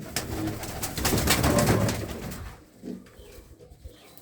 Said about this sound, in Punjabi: ਲਾਲ ਚੀਨੀ ਕਬੂਤਰੀ ਆ